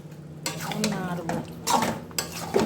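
A spoon scrapes and stirs marinated home-raised rooster curry with tomato and oil-fried spices in a cooking pot, about four quick scraping strokes with a soft sizzle underneath.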